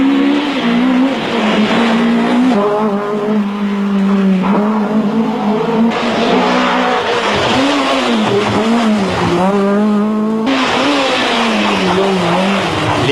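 A rally car with a 3-into-1 exhaust, dog-engagement gearbox and roughly 260 hp engine, tested on the Monte-Carlo route in 1995, roars loudly through repeated high revs and upshifts, with pitch climbing and dropping between gear changes.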